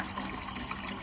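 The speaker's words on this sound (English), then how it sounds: "I'm getting some water from my water catchment system" Water pours steadily from a rainwater catchment system outdoors, a brief, faint, even splashing rush with no voices.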